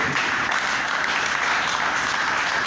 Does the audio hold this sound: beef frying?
no